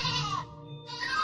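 A sheep in a children's educational cartoon bleats twice, two clear wavering cries separated by a short gap, loud and alone without any voice.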